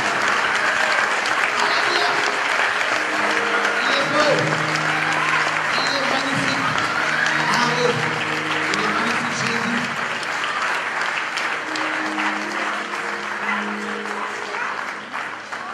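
A church congregation applauds in loud, sustained clapping that fills the room, while a voice speaks and calls out over it and the applause gradually tapers toward the end.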